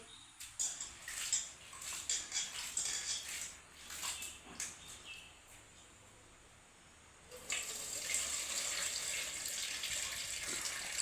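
Soaked rice is washed by hand in water, giving a run of soft, close swishing and splashing strokes, a quiet pause, then a steadier wash of running water.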